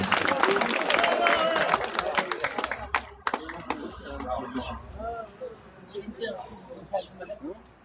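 An audience applauds at a football trophy presentation ceremony. Dense clapping fills the first few seconds, then thins to scattered claps amid crowd murmur and voices.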